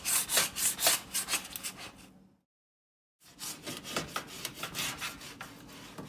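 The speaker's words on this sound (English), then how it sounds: "It's all scraped out." A scraper works over an induction stove's glass top, clearing residue after a vinegar and baking soda cleaning, with rough rhythmic rasping strokes, close and fairly loud, broken by a full second of silence midway.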